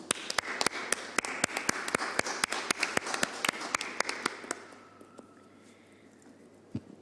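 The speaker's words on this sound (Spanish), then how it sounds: "Le damos otro aplauso para la presentación de su norma." Scattered clapping from a small group at a constitutional convention environment committee session in Chile: sharp, irregular claps for about four and a half seconds, then quiet room tone with one last clap near the end.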